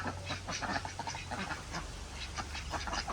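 A flock of domestic ducks quacking repeatedly in a busy, overlapping chorus, with steady background noise and a low hum underneath, no talking.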